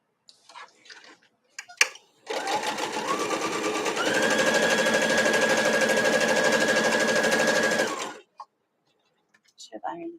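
A sewing machine stitches a quilt flimsy in a steady loud whirring run of several seconds, close up, with a faint whine rising partway through and small handling clicks before and after.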